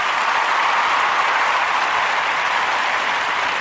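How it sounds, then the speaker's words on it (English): Dense, steady applause from a crowd, loud and continuous without pauses, heard alone with no voices over it. "Give them guys a big applause."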